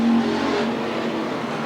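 Race cars roar around Willamette Speedway in 1991 in close racing. Loud, sustained engine noise stays near and strong throughout a short burst, with no talk over it.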